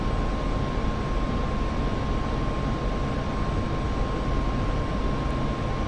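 An F-86F jet engine in the DCS flight simulator game roars during the takeoff roll, a steady, loud, broadband rush with a constant whine, unbroken throughout.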